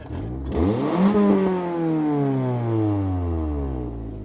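A Honda Civic EP3 engine with a blown-out exhaust revs up loudly and then drops to a rough, droning idle, its pitch sliding down as the rumble settles.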